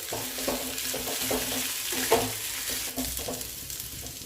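Cut vegetable peels frying in a pan, with a steady sizzle under repeated soft stirring scrapes and one sharper clink midway, close and moderately loud.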